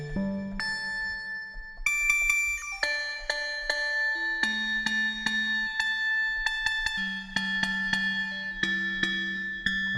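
Bell-like FM synthesis tones from an Empress Effects Zoia, set up as three operators, play a clear sequence of sustained, ringing notes that change pitch every second or so, each with bright overtones and a soft attack.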